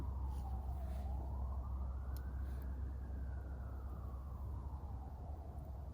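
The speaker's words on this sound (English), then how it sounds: "I don't know if you heard the police sirens way off in the distance." A faint police siren wails far off, its pitch slowly rising and falling over a low steady rumble of outdoor background noise at a wild campsite.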